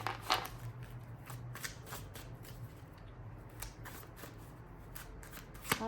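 A tarot card deck is shuffled close by, with repeated crisp riffling bursts and soft card slaps spread across the whole stretch, under a low steady hum and no talking.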